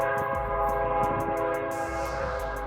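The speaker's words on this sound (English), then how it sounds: "A train right now?" Passing train sounding a loud, sustained multi-tone horn close by, with a rumbling rail undertone and rhythmic wheel clatter throughout.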